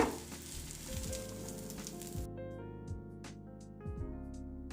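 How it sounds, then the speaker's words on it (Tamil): Kari dosa, a Madurai-style meat-topped dosa, frying in a little oil on a pan, giving a steady close sizzle with soft scraping touches and a faint musical tone in the background, with no talking. "கொஞ்சமாக எண்ணெய். இப்போ தோசை நல்லா வெந்துடுச்சு."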